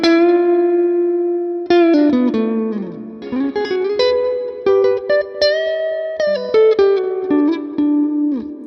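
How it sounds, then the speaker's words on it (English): Electric guitar through a Mesa Boogie amp model in Amplitube 5 with reverb pushed to an exaggerated level, a run of picked notes and chords whose tails wash and ring on between phrases, played alone and fairly loud. "Let's hear the reverb exaggerated."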